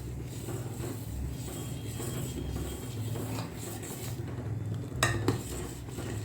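A spoon scrapes and stirs aval payasam, a sweet flattened-rice pudding, as it simmers in a pot, with soft repeated scraping and a few sharper metallic knocks near the end, close and without speech.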